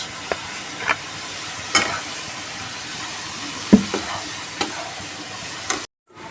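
Pointed gourd pieces with salt and turmeric being stirred in a hot pan, a continuous sizzle with periodic sharp scrapes and taps of the spatula, ending abruptly.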